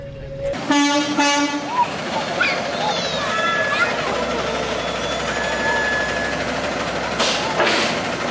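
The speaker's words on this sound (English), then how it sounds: "they give us a little honk" A city trash truck gives a short honk, then a second, longer blast, heard outdoors in a residential neighborhood over rumbling engine noise, with voices and other sounds mixed in.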